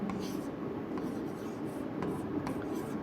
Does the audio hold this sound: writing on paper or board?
yes